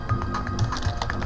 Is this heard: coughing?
no